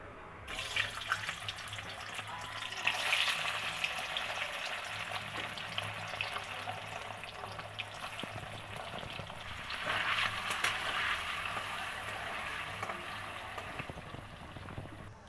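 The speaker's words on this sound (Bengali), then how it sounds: "পনিরগুলো আমি একটু ভেজে নেব হালকা করে।" Paneer cubes frying lightly in oil for a vegetarian paneer curry, a continuous soft sizzling hiss that swells and eases over a long stretch, with no talking.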